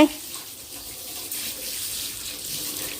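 Water runs steadily from a tap in a continuous, fairly close hiss with no break.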